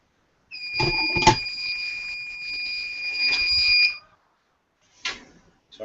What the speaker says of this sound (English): It's the alarm on the fume cupboard telling me that the airflow isn't working properly